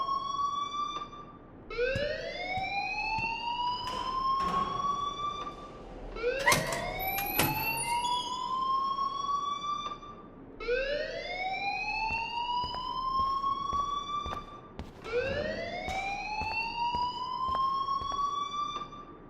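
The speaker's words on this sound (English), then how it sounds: "please turn off that alarm since that's your job" Alarm from the video game Life Is Strange, a loud repeating upward-sweeping siren tone that rises in cycles of roughly four seconds and continues steadily throughout.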